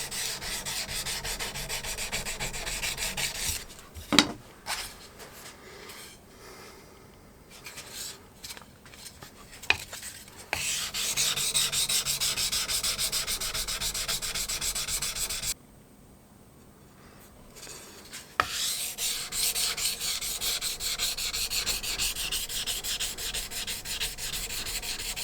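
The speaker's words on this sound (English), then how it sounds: "I'm going to do some sanding work with my sanding" Steady rasping strokes of sanding pads scrub against a metal axe head, stopping briefly a few times and then resuming, fairly close and continuous.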